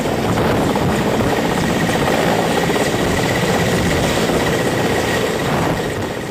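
Cheetah helicopter flying mountain sorties around Kedarnath, Jungle Chatti and Gaurikund, its engine and rotor making a steady, loud, continuous roar throughout with no talking.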